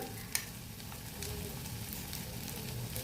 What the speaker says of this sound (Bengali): নারকোলটা তাহলে মোটামুটি ভাজা হয়ে গেছে